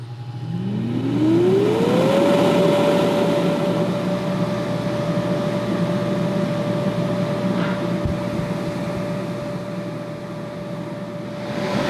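A bounce house air blower starts up with a rising whine that climbs over about two seconds, then settles into a loud, steady motor drone and rushing air that runs throughout, with no talking.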